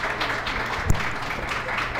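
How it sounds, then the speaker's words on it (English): A crowd claps steadily for a couple of seconds, a dense wash of applause with one sharper knock partway through. "You just give her another round of applause."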